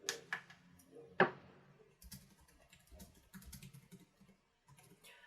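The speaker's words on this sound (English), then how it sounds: "I really like the feeling of the typing" Typing on a Freewrite Traveler portable keyboard: scattered, close-up key clicks in short bursts with pauses, fairly faint, with one sharper tap near the start.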